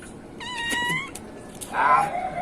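A pet cat meows at home, two clear close meows, the second louder and longer, with light background noise between them.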